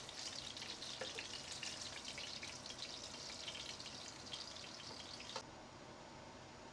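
Quail pieces browning in a pot for an Indian curry give off a faint, steady sizzle and crackle with occasional light clinks, alone and unbroken before the sound drops slightly at the end.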